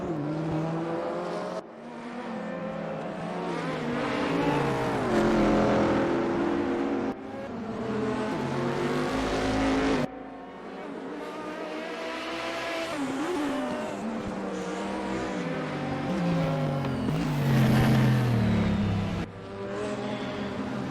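Audi Group 5 race car at the Salzburgring, engine roaring and revving through gear changes with pitch rising and falling, loud and continuous with brief dips between pulls.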